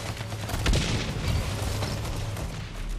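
A grenade blast in a competitive 3v3 team shooter match, a muffled boom with a low rumble swelling under steady background noise and distant crackling, no distinct voices.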